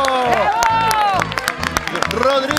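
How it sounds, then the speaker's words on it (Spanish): A television studio audience claps and cheers for pizza chef Rodrigo Flores, bursts of applause mixed with music and a voice over it, loud and close throughout. "Quiero que le den un fuerte aplauso a Rodrigo"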